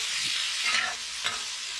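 Vegetables stir-fried with ground pepper in a pan in a home kitchen, a steady close sizzle with scraping stirs at about 0.3 and 1.3 seconds and no talking.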